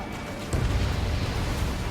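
A deep, rumbling explosion from a destroyed target vehicle in the jet combat game Ace Combat 7, with a sudden low boom that settles into a sustained roar lasting a couple of seconds.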